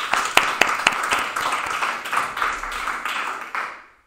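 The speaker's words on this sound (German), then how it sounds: "Der Applaus ist jetzt gar nicht so groß, weil wir müssen uns jetzt eigentlich selbst applaudieren" A small audience claps at the end of a talk event, a sparse, close patter of hands with a few sharper individual claps, fading out at the end.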